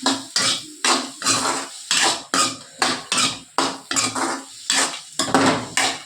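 Tomatoes sautéed in a pan for ennai kathirikai kulambu, with loud, rhythmic metal spatula scrapes repeating about a dozen times in quick strokes, close and alone.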